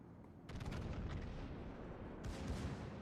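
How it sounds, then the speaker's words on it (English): Heavy naval guns from the battleship Tirpitz in a naval warship game fire a salvo of deep, loud booms, followed by sustained low rumble and a second burst of blasts near the end, with no talking. "Looks like a nice salvo out here on the Tirpitz"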